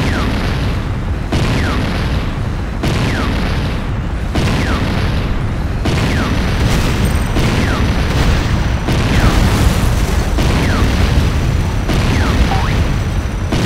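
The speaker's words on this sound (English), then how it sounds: "GDI Tiberium refinery destroyed." A GDI Tiberium refinery explodes in Renegade, loud repeating booms arriving about every one and a half seconds over a dense, continuous rumble of battle.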